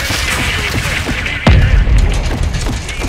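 A missile explosion in the Call of Duty Modern Warfare II campaign, a single heavy boom that lands midway through and rumbles low, set against dense, steady battlefield noise and gunfire-like clatter.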